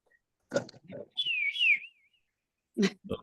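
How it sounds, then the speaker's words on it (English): A toy bird whistle gives one warbling, wavering trill lasting under a second, with short bursts of talk before and after it. "Bird whistles."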